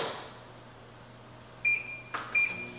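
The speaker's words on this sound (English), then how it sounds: "I'm gonna microwave it for 30 seconds at a time." A microwave oven melting chocolate chips hums quietly and steadily, then a door clunk is followed by a few sharp, close electronic beeps near the end.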